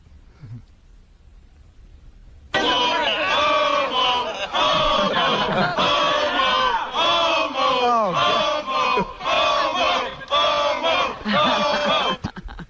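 A crowd outside the Sit and Sleep location shouts and jeers at Sal, loud massed voices bursting in after a quiet start and roaring continuously, rising and falling in waves close by.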